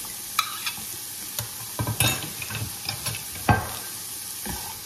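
Onions go into a pan of peas and carrots, with scattered sizzling bursts and stirring scrapes over a steady frying hiss, close and moderately loud.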